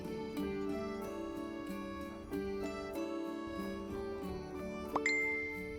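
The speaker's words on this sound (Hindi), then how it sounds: "तभी उसके फोन में एक नोटिफिकेशन आया।" Soft tinkling bell-like tones play gently, then a bright phone notification chime rings out near the end, quiet and clear.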